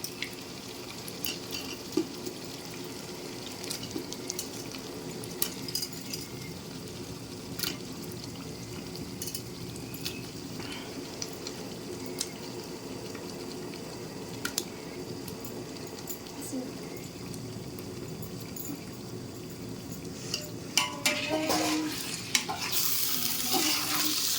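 Tiger prawns are stirred with softened tomatoes in a pan, giving soft intermittent scrapes and clicks over a low, steady sizzle, with a voice talking at times.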